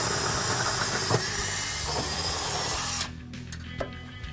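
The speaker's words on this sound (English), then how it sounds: "We're also going to drill another hole for the airline to come in down from the trunk into the airbag." A power drill whirs steadily for about three seconds, drilling a hole in the trunk of a 2005-2014 Ford Mustang for an air suspension line, then stops, followed by a few small clicks and knocks nearby.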